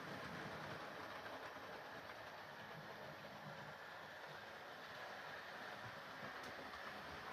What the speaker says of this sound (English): Beautiful locomotive.